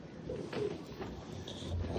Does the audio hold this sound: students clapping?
no